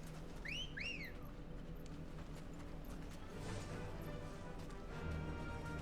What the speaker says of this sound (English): Like wolf whistle for Ambrosia?